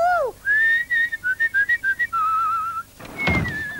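A person whistles with pursed lips: a rising swoop, then a quick run of short bright notes and a long held tone, ending with a thump and a fading note.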